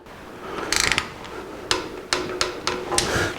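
Torque wrench clicking as it tightens oil pan bolts on a small-block Chevy engine, a scatter of sharp metallic ratchet clicks and taps spaced across a few seconds, close by and moderately loud.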